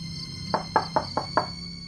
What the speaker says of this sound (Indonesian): mendengar suara pintu depan diketuk pelan